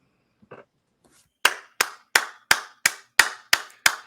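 A single pair of hands clapping about eight times in a slow, even rhythm after a couple of faint taps, close and isolated against silence, at a live show.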